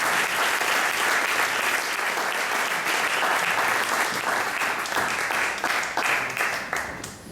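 Sustained audience applause for poets at a human rights poetry event, dense steady clapping filling the whole stretch and tapering slightly at the end, with no speech over it.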